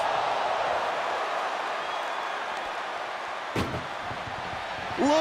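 Over a steady roar of a WWE wrestling crowd, a single heavy ambulance door slam cracks out, followed by a squeal and another thud at the end.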